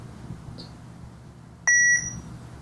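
A Tobot Terracle toy metal detector gives a short faint blip, then a single loud, sharp electronic beep lasting about a quarter second against a quiet room background.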